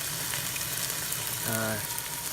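Shallots and garlic frying in a pan, giving a steady, moderate sizzle with a brief tonal clink partway through.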